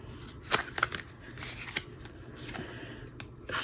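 Tarot cards being shuffled by hand, a run of soft papery riffles and flicks with a few sharper snaps, close and fairly quiet, with no voice over it.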